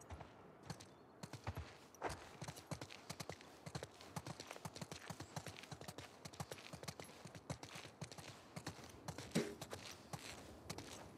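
Horse hooves clip-clopping at a steady walking pace in the video game The Last of Us Part II, continuous rhythmic hoof beats on the ground, fairly close and alone without talk.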